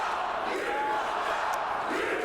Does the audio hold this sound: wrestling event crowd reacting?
yes